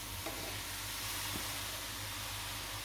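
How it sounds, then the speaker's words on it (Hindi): Grated carrots are added to a hot wok for gajar ka halwa and give off a steady, even sizzle and hiss of frying, with a couple of faint stirring knocks and no talking. "And we'll add the grated carrots into the wok."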